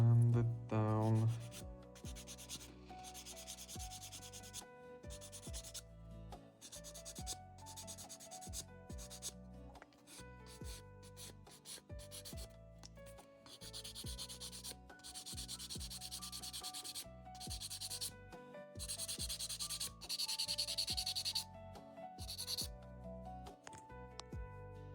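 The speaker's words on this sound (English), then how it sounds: "And everything else needs to be sanded down." Wooden ship model parts of sapele and walnut are sanded by hand, with quiet, steady rubbing strokes in a fast, even rhythm that run close and continuous throughout.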